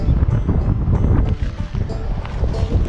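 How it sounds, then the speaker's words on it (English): Strong wind buffets the microphone at a shallow pond, a loud, continuous low rumble with gusty surges and no clear voices over it. "it's really windy"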